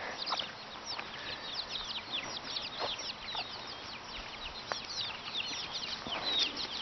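Free-range chickens and roosters cluck and chirp in a busy outdoor flock, with many overlapping short calls from nearby birds and faint chick peeps throughout.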